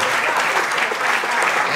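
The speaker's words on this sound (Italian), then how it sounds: "Grande applauso, Michelino." A crowd gives a short burst of dense, steady applause, heard close and fairly loud.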